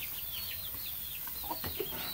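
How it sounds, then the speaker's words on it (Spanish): A chick scratches about and gives several short, high cheeping clucks in quick succession, fairly close, with faint background noise and no talking. "Pero ahorita el pollito anda rascando."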